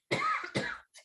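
A person coughs twice in quick succession, close and loud, each cough a harsh burst of about a third of a second, with a brief throat sound right after.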